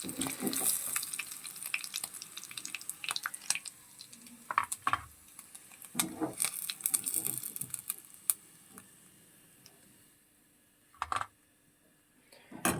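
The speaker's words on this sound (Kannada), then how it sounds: "ಸೊ ಇವಾಗ ಪನ್ನೀರ್ ಫ್ರೈ ಆಗಿದೆ" Paneer fries in ghee in a pan: a soft sizzle broken by scattered clicks and stirring taps, louder in the first half and fading toward quiet near the end, with no one speaking.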